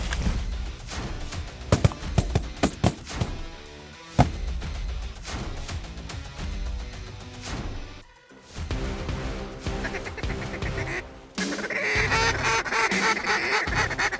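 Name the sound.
flocks of ducks and geese during evening flight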